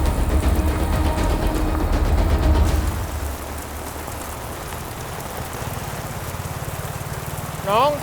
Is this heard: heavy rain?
yes